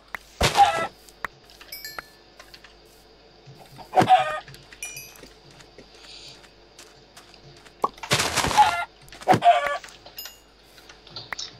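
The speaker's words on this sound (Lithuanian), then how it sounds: "Aš tikrai viščiuką pataikau." A chicken in the Minecraft video game clucks in several short, distinct bursts spread across the stretch, separated by quiet gaps. A faint game background hum sits between them, and no one speaks.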